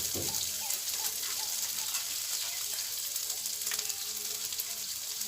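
Spices frying in a pan for a Bengali steamed egg dish, with a soft, faint sizzle and a few light stirring clicks.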